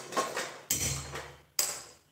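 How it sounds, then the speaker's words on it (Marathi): A steel kadai is set down on a gas stove in a home kitchen, producing three sharp metallic clanks spaced about a second apart, each ringing briefly before fading, with no talk. "आता ही स्टीलची कढई आहे"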